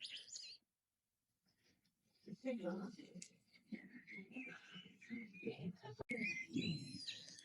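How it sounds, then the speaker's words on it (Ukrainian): Small birds chirp and twitter in short bursts in a Kyiv botanical garden on a rainy day, among Crimean pines and blooming rhododendrons, fairly faint, with soft nearby voices and rustling. "Співають пташки"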